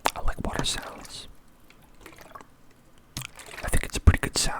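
Intimate ASMR liquid sounds: dripping and gentle pouring water close to the microphone, louder at the start and end with a hushed pause between, alongside soft whispering.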